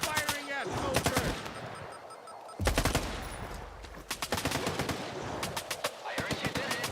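Video game gunfire in a survival game, with rapid automatic bursts and dense volleys in several clusters, loud and close, with brief pauses between them and a voice speaking faintly underneath.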